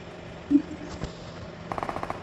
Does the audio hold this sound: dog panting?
no